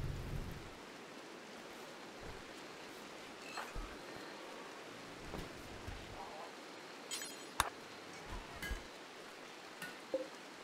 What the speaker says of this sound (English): Finally, automatic rain.